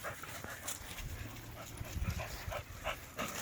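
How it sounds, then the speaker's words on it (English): A Catahoula leopard dog, a hog-hunting breed, makes faint panting and small whimpering sounds nearby outdoors, quiet and intermittent with light rustling in between. "He's a Catahoula leopard dog, bred for hog hunting."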